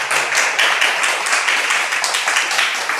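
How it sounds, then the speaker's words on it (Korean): Audience members clap for a lecturer after a talk in a hall, a steady, fairly loud round of applause lasting a few seconds with no voices over it. "우리 정 총장님께 귀한 강의 해 주신 정철께 우리 감사의 박수 한번 올려주시면 좋겠습니다."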